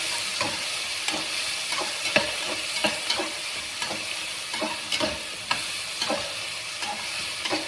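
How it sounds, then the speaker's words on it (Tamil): Ginger, garlic and coriander sautéing in a hot pan, with a steady sizzle broken by repeated scraping and stirring strokes, close and clear with no talk. "இஞ்சி பூண்டு கொத்தமல்லி கூட போட்டுடலாங்க, நல்லாயிருக்கும். இதை கொஞ்சம் நல்லா வதக்கணுங்க."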